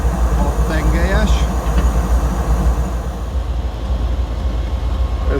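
A large, recently acquired six-axle locomotive hauling an overnight Bucharest–Chișinău train gives a steady, loud, low rumble and drone at close range, with a voice talking over it.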